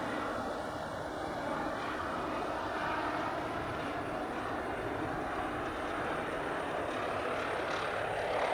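Aircraft engine roar from planes approaching to land on runway 26 left at Spirit of St. Louis Airport, a steady, loud, broadband rumble that holds unbroken throughout with no voices.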